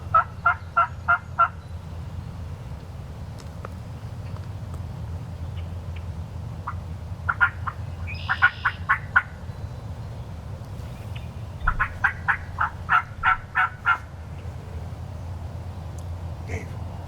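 Several wild turkeys gobble and call from a distance in repeated bursts, a few seconds apart, over a low, steady outdoor background.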